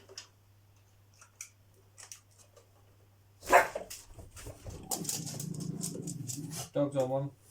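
A dog barks and whimpers in bursts during the unboxing of a 12-frame Lyson honey extractor, close and fairly loud, mixed with people talking and clattering, after a quieter stretch with a steady low hum.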